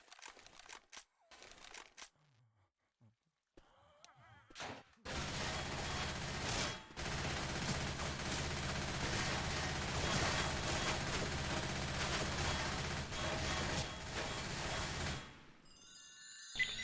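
Continuous SMG fire in the shooter game Left 4 Dead 2, a dense stream of rapid shots running for about ten seconds after a few scattered clicks and thuds, with brief talk.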